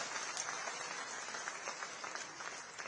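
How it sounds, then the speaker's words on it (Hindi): Crowd applause at a Delhi traders' event, a continuous, evenly textured wash of many people clapping, soft and somewhat distant, with no speech over it. "तालियां बजाइए, अच्छे सारे बजाइए ना"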